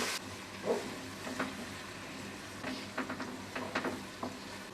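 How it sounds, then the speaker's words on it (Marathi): Chopped onion sautéing in a pan after cumin seeds went into the hot oil, a soft steady sizzle with scattered scraping stir strokes, fairly quiet and close. "कांदा ना आपल्याला मऊ करून घ्यायचा आहे परतून घेऊया"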